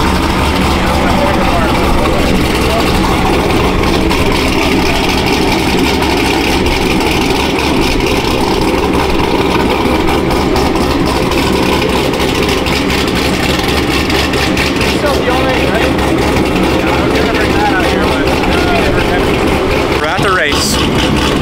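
A street car engine, from a naturally aspirated C6 Z06 or Whipple-supercharged Mustang build, runs loud and close with a steady, heavy idling rumble and a brief rev-like swell near the end.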